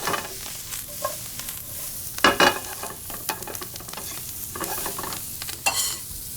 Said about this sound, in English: You can start to really smell the shallots getting toasted off in this bacon